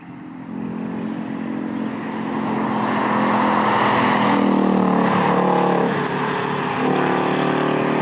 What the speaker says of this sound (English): You have this ridiculous naturally aspirated V8, and you're just going.